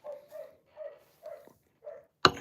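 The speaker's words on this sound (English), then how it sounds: "I have a dog that's barking." A dog barks in a livestream room, about five short muffled yips at a steady pace, moderately near but soft, followed by a sharp knock or clatter.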